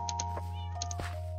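A cat meowing in the Minecraft video game, a couple of short faint mews over a steady game hum.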